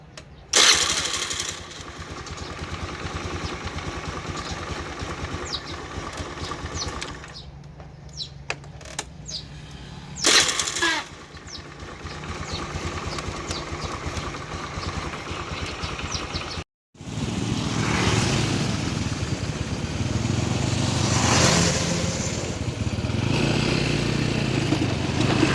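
A Honda Spacy scooter engine runs at a steady putter, drops out briefly, then starts and settles into a louder, rougher idle nearby, with no talking.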